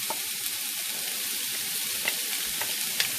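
Chopped green onion, green pepper and onion brown in an enameled cast iron pan with a constant, hissing sizzle and a few soft clicks and pops, with no talking.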